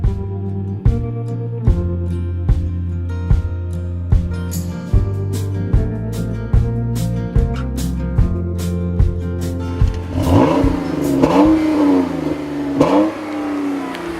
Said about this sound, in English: I wasn't expecting this engine to sound so throaty, but it actually does sound pretty good.